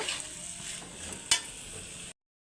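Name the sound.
stir-frying jackfruit with prawns in a pan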